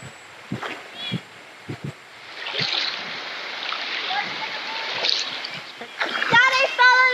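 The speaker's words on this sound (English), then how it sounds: "Daddy fell in the water and wet his bum." A man falls into a rocky creek in the Daintree rainforest, heard as a burst of splashing and churning water. Scattered knocks come before it, and a voice and other talk rise over it near the end.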